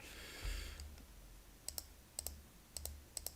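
A computer mouse clicks in quick pairs, four double-clicks spaced evenly and close by, with faint background noise and no talking.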